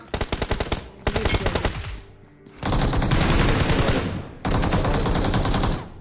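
Rapid automatic weapon fire rattles through a battle royale video game fight, with a quick stuttering burst, a brief pause, then long sustained volleys that stay loud and close.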